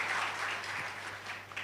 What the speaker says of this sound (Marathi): आपण पुन्हा एकदा त्यांना टाळ्या वाजवून वाढदिवसाच्या शुभेच्छा देऊया